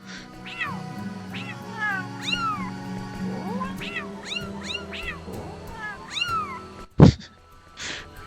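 A two-tailed cat in the PS2 game Star Ocean: Till the End of Time meows repeatedly in bright, rising-and-falling calls, with a sharp thud near the end over a low game background.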